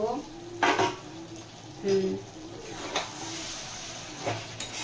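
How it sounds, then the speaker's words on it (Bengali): Amra (hog plum) chutney stirred in a pan, with a spoon scraping and clinking against the metal in a few distinct strokes over a soft background sizzle, close and moderately loud. "একবার নাড়িয়ে দেব।"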